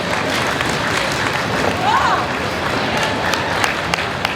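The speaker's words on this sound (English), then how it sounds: "Big round of applause." Audience applause at a costume contest at Replay FX 2015, a dense broadband wash of clapping mixed with crowd babble, steady and fairly loud throughout.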